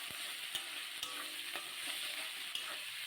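Spices and chicken fry in a pan with fried onion, garlic paste and cashews, giving a faint steady sizzle broken by soft scrapes and clicks of stirring, with no talk.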